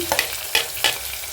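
Yellow and red capsicum with tomatoes frying in a pan, with a few short stirring scrapes and soft sizzling bursts in a quiet kitchen.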